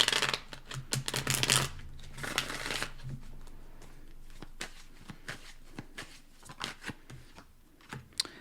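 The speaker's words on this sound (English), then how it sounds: "Let's do one more shuffle." Tarot cards being shuffled, a loud riffling burst followed by a second, then softer taps and flicks as the deck is handled, close and without talk.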